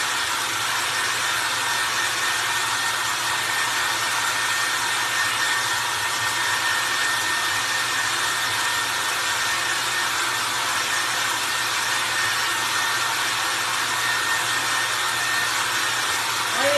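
A hair dryer blows steadily and loudly on a painted Target cloche, a constant airy whir with no pauses, heard on its own without talk.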